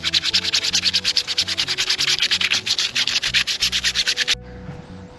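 A clean PVC inflatable boat surface is rubbed hard with alcohol, giving rapid, rhythmic scrubbing strokes, close and loud, that stop abruptly near the end, leaving quiet room tone.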